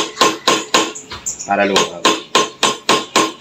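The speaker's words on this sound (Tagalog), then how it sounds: "alalay ko lang ng pukpok. Ayan, para lumag." A hammer taps a rusted screw on a motorcycle's brake fluid reservoir to loosen it, a steady run of sharp metallic knocks close up, with someone speaking briefly in the middle.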